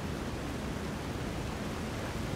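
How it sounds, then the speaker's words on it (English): Steady rain in Skyrim Special Edition, a continuous even hiss of falling water with no breaks or other sounds, moderately quiet and uniform throughout. "It's rainy."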